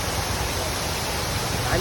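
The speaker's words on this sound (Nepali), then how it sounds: "पानी रहेछ माथिबाट आइरहेछ" Lauke waterfall at Nuwakot, water falling from above, gives a steady, loud, broadband rush that fills the scene without a break.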